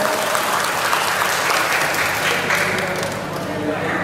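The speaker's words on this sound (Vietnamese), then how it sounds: "Xin một tràng vỗ tay thật lớn ạ" Loud, dense applause from a large audience at an indoor gift-giving ceremony for soldiers and fishermen, a sustained wash of clapping that carries through the whole stretch with a faint murmur of voices underneath.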